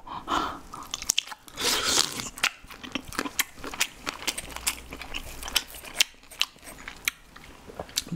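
Octopus legs dipped in cheese sauce are chewed close to the mic, giving repeated wet crunchy bites and squelches in an irregular rhythm, with a brief exclamation early on.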